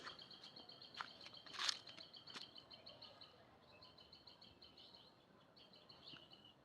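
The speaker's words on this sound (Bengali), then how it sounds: "আর পাখির ডাকটা কি সুন্দর লাগতেছে" Birds sing near a village pond, with faint, high chirps and short trills scattered across a quiet outdoor background, one brief call standing out louder early on.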